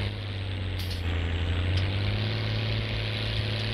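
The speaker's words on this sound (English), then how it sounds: "Man, I love how this tractor sounds." A tractor engine in Farming Simulator 19 drones with a steady low rumble and a strong low hum, loud and close throughout. It stays constant with no talking, apart from a brief higher hiss near the one-second mark.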